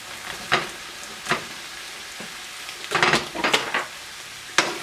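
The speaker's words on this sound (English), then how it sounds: "We're going to stir that up." Kung Pao tofu stirred in a thickened, simmering sauce in a pan, with a soft sizzle beneath several sharp utensil scrapes and clacks against the pan in irregular bursts.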